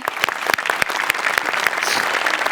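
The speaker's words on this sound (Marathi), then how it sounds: "जोरदार टाळ्या" Loud, sustained applause from a live audience after a comic dance performance on a Marathi stage show, dense clapping filling the whole moment without speech.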